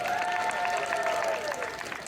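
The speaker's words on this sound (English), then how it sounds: "round of applause, everybody." A convention panel audience gives a round of applause, dense steady clapping and some cheers filling the room from start to finish.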